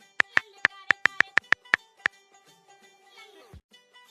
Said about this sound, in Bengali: আকাশ ভাই ফোন দিছে।